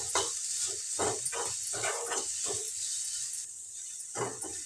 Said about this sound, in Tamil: மசாலாவை சேர்த்துட்டு நல்லா கலந்து விட்டுக்கலாம்.